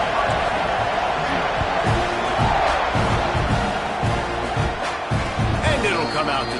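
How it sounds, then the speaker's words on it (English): A football stadium crowd buzzes and roars after a score, a dense, continuous wash of cheering with a commentator's voice talking over it throughout. "this crowd is buzzing after that last score"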